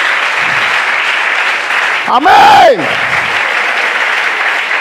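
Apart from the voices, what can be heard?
church congregation applauding during sermon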